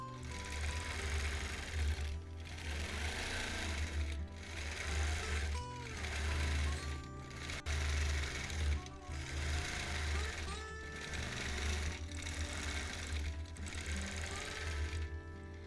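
A longarm quilting machine stitches a flower motif onto a quilt, giving a steady, rapid mechanical hum with a low motor drone that pauses and restarts at intervals, close and continuous throughout.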